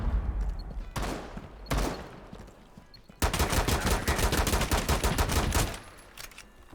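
Rapid automatic gunfire in Rainbow Six Siege, with two short bursts followed by a long sustained stream of close, sharp shots that ends abruptly.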